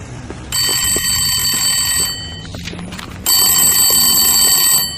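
An old-fashioned telephone bell rings loudly in two bursts, each about one and a half seconds, separated by a short pause, over faint background noise.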